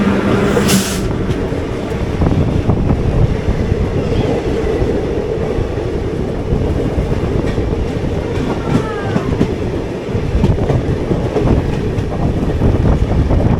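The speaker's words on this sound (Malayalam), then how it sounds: "തിരുപ്പതി SMBT ബാംഗ്ലൂർ എക്സ്പ്രസ് ആയിരിക്കണം." A Tirupati SMVT Bangalore Express rushes past near Bengaluru, a loud, continuous rumble of rolling wagons with clickety-clack from the wheels and a brief squeal, heard close up from an adjacent train with no talk.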